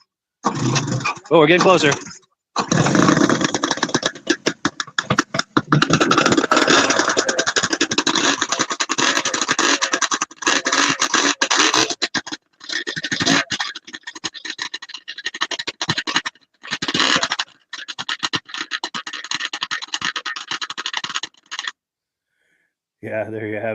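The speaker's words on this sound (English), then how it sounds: "I like how those stinger pipes make that crackling sound." Vintage snowmobile engine with stinger exhaust pipes starting and running, loud and rough with crackling bursts, broken by short gaps and under occasional talk.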